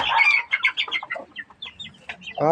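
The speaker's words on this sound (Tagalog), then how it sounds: "Walang tigil talaga guys ng away itong aking sisiw." Chicks squabbling with rapid high chirps and clucking peeps, close and fairly loud, in uneven bursts across the whole stretch.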